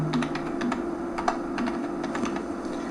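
Keys clatter in quick irregular bursts on a computer keyboard as an Aadhaar number is entered into an online form, close and fairly clear over a steady low hum, with no voices.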